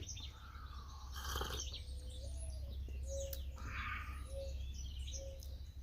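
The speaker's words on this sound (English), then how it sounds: "Morning doves." Mourning doves and songbirds call outdoors in the morning, with soft hooting coos and scattered chirps and tweets, faint and distant over a steady low rumble.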